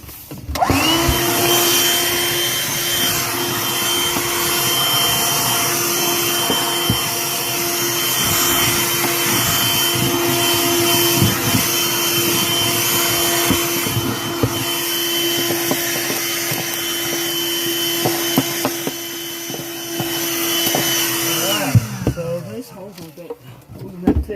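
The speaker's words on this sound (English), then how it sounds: "I'll put my vacuum." A vacuum cleaner runs continuously, loud and near, with a steady whine, while it sucks up water and debris around an H2O tank being overhauled. Rattles and clatter come through as it pulls in material, and it powers down at the end.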